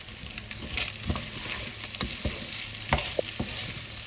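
Rice sizzles and crackles as it fries in butter in a pot, with intermittent scraping and stirring clicks from a utensil against the pot.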